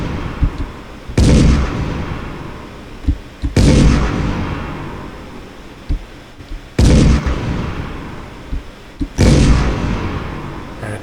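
Explosion effects from an Unreal Engine third-person game boom out in four loud, heavy blasts spaced a few seconds apart, each trailing into a rumbling decay with sharp thuds in between.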